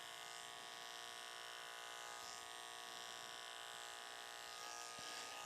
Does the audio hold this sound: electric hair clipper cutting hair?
yes